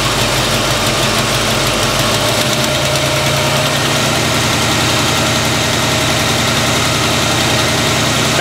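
A GM car engine runs loud and close during an alternator load test, idling and then rising to a steady higher rev hum with no one talking.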